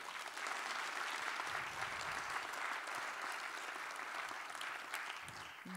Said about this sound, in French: On peut les applaudir, ils sont en coulisses.